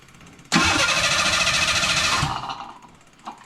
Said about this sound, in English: That is like the fastest starter I've ever seen.